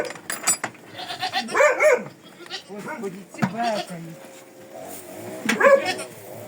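Goats bleating around a village farmyard during evening chores, several separate nearby calls rising and falling over a few seconds.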